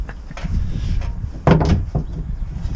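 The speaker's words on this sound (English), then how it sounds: "Stable door." The wooden stable door of a F.A.M.E. Domino boat swings open with a thudding knock and clack of the latch, followed by softer creaks and bumps nearby.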